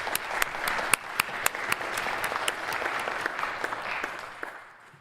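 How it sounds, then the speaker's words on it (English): At an annual meeting, an audience applauds in a moderate, steady patter. A few sharp, distinct claps stand out near the front, and the applause thins and fades toward the end. "So a big round of applause for all of you."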